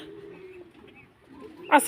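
Pigeons on a mixed farm keeping Lotan, Shoking, Romangal, Mundian and King breeds give a faint, low cooing murmur, ending in a brief louder burst of wing or bird noise.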